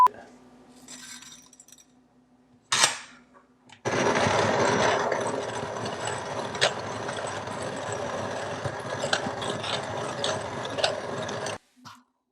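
Coffee beans are ground at home in a grinder, with a brief rattle of beans followed by a loud, steady whirring grind lasting about eight seconds before cutting off abruptly.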